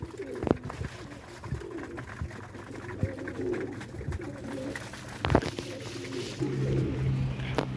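Pigeons coo on a rooftop, several soft low coos rising and falling close by, with occasional wing flutters and faint background noise.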